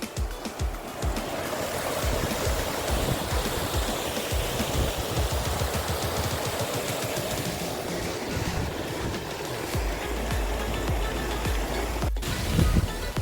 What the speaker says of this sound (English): First waterfall at Cherrapunji.